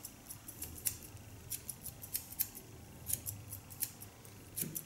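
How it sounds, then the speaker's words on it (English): Thinning scissors snipping through short hair during a haircut, a string of crisp, close metallic snips in an uneven rhythm against a quiet background. "I use this thinning scissor, go in the line where I know I've made the cut."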